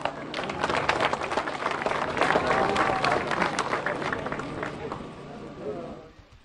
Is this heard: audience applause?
yes